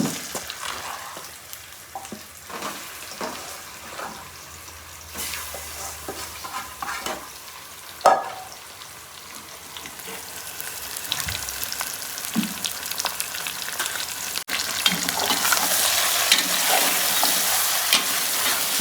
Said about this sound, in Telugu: చికెన్ వేసిన తర్వాత ఒకసారి మంచిగా కలబెట్టాలి.